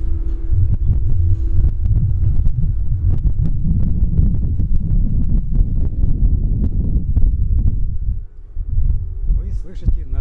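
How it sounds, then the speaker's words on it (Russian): Heavy wind at the top of Vysotsky Tower in Yekaterinburg buffets and rumbles against the microphone in low, gusty bursts, loud and continuous, easing briefly near the end. "Вы слышите натуральный ветер."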